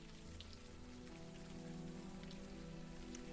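Rain falling in the video game Unavowed, a faint, steady patter of drops on a surface over a low constant hum, with no voices.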